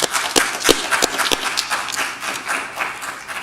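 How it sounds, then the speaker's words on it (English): Applause from a conference audience at a closing keynote lecture: dense clapping from a large crowd, with a few sharp, distinct claps standing out near the front, steady and moderately loud, easing slightly toward the end. "Let's give them all a well-deserved round of applause."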